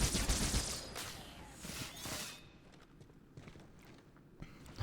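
Gunfire in Halo 2 on the Gravemind level comes as a quick clattering run of shots at the start, loud and dense, then thins into scattered faint pops and clicks under game noise.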